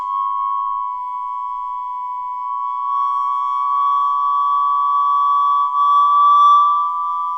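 Two steady, close tones in unequal temperament tuning sound together without a break, and a faint beating note between them slowly rises in pitch.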